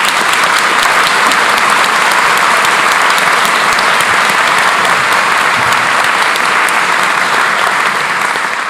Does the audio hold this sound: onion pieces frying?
no